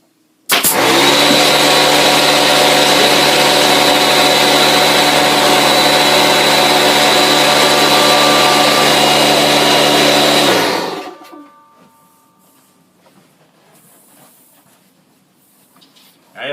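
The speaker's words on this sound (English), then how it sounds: "I totally forgot to shut the air compressor off." An air compressor runs loud and steady as a continuous mechanical drone for about ten seconds, then shuts off and winds down, leaving near silence.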